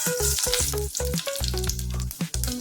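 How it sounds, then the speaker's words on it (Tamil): Mustard seeds and urad dal crackle and sizzle steadily in hot oil, a dense continuous frying hiss with sharp pops, close and loud, with no talking. "கடுகு உளுந்தம் பருப்பு சேர்த்துக்கிறேன்."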